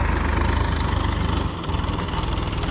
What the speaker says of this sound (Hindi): पापा ट्रैक्टर चला रहे हैं